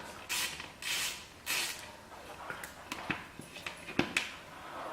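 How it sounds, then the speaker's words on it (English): Ratchet wrench tightening a stubborn bolt back onto dirt bike forks, three broad raspy bursts of clicking followed by shorter, sharper ticks and creaks, close and fairly quiet. "let's get it back on with the ratchet"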